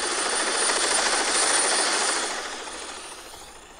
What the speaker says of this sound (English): I'm on the helicopter right now.